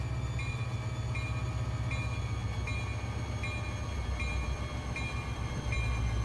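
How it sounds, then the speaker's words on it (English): A train in a Roblox rail game slows toward a stop. A steady low rumble runs throughout, with a regular, repeating high-pitched tone, and nobody speaks. "The train is gonna be directly stopped from over here."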